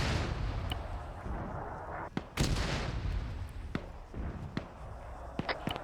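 Mortar rounds in a military war-training video game fire and impact as a run of sharp booming thuds and blasts over rumbling battlefield noise, several strikes spaced irregularly, loud and close.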